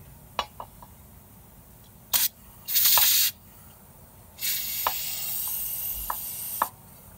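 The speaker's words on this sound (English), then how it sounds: "for this one, we'll use the Brake Clean" Brake Clean aerosol is sprayed onto a car wheel: a short puff, then a second hissing burst, then a longer steady spray, close and loud over quiet background.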